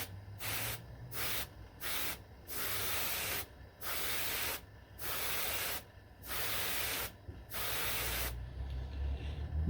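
An airbrush spraying paint: short bursts of soft, even hissing air, about ten in a row, each cut off by a brief pause as the trigger is released, close and quiet, with no talk.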